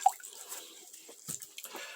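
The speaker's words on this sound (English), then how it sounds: "I'm just taking some water, wetting a rag here." Water trickles and drips onto a cloth rag being wetted by hand indoors, faint and sparse, with a few soft splashes.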